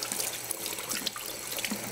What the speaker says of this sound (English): Just rinse your hands